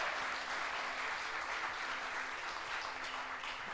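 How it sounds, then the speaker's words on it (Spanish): A church congregation applauds during a worship service, a steady, full wash of clapping that fills the room without pause. "Dale un fuerte aplauso al Rey de Gloria."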